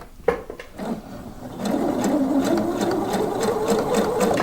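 A sewing machine stitches a blouse seam at a 3 stitch length, a close steady rapid whir after a few soft handling knocks at the start, with no talk over it.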